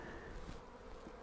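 A swarm of European honeybees buzzes as a faint, continuous drone, steady and fairly distant, with no voices over it.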